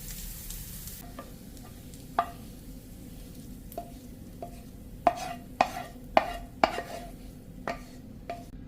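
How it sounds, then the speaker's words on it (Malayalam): Curry leaves and chopped shallots fry in a pan under a low, quiet sizzle, punctuated by sharp spoon taps and scrapes that come in a quick cluster near the end, with no talk. "ചുവന്നുള്ളി നേരത്തെ അരിഞ്ഞു വെച്ചിട്ടുള്ളത് അതും ചേർത്തിട്ട് നന്നായി വറുത്തെടുക്കാം."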